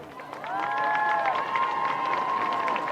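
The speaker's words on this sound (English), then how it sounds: "Let's give them one more big round of applause." A crowd claps and cheers in the stands at a high school JV football game, a sustained, moderately loud wash of applause with a bright tonal sweep rising through it.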